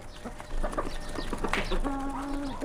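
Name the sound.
chickens and ducks on a village farm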